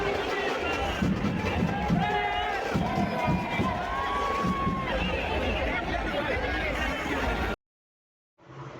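A dense crowd surges around the Chinchpokli Chintamani Ganesh idol arrival procession in Mumbai, a close, constant roar of shouting, chanting and shuffling feet that cuts off abruptly and then returns faintly.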